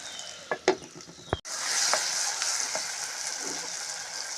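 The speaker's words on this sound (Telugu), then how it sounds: "మూత వేసి రెండు నిమిషాలు ఉంచుదాం టమాటా మగ్గుద్ది" Tomatoes cooking with onions for a mango curry sizzle steadily in a covered pan, a soft continuous hiss following a few close clicks and knocks as the lid goes on.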